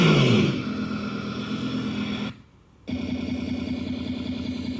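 A Segway Ninebot GoKart Pro plays a simulated muscle-car engine sound: a loud rev that drops into a low, steady rumble, cuts out briefly to near silence, then resumes at a steady idle.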